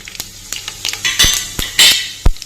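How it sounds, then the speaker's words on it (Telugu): Seasoning seeds splutter and crackle in hot oil, with a few sharp pops and brief bursts of sizzle alongside light clinks of a utensil against the pan. "ఇవి కొంచెం చిట్టుపట్టు ఆడుతుండగా"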